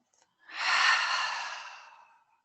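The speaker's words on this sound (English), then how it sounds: "perhaps take a big exhale out of the mouth" A single long, breathy exhale pushed out through the mouth during a trauma-informed yoga session for anxiety relief. It swells quickly, then fades slowly over about two seconds, alone and close in a quiet room.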